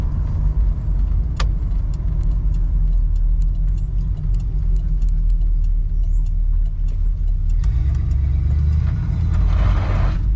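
A car with a TH350 automatic transmission and a slow, delayed shift does burnouts, its engine a steady loud low rumble throughout that swells and roars harder near the end.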